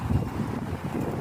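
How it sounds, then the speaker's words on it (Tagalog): Steady wind buffets the microphone at a beach with a low, rumbling roar, gusting unevenly throughout with no other clear sounds. "Masyadong mahangin."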